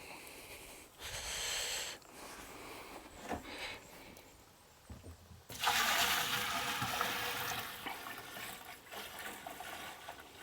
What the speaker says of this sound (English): We'll put the rest of the water here you see in front of the sprayer in there, and Mike's ready to go.